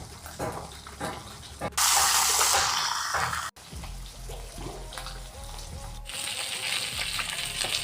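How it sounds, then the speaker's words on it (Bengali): Fish frying in hot oil in a home kitchen while potatoes and cauliflower are prepared nearby, with bursts of loud broadband sizzling and splashing that swell and fade, alongside clatter and running-water-like hiss; no talking. "माछ भाजा होते होते आमी आलू फुलकपिटा केटे निচ্ছি।"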